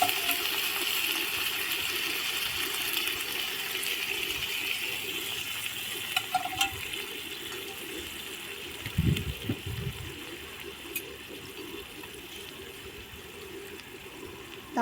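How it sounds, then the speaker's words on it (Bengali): Hot water is poured into a pan where a fish head is cooking, producing a steady wash of watery hiss and gurgling with a few brief clunks near the middle. "এখন আমি গরম জল দিয়ে দিলাম।"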